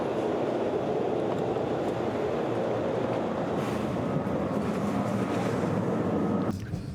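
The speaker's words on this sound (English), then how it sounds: "the inline pulled out of the station just about an hour into the challenge" A Denver RTD commuter rail train rumbles steadily and loudly at close range as it pulls out of the station, a continuous low roar that cuts off abruptly near the end.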